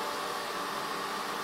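A small electric fan for a solar air collector, slightly unbalanced with a touch of vibration, runs with a steady, even whooshing hiss that holds at one level for the whole stretch, close by and with no talking.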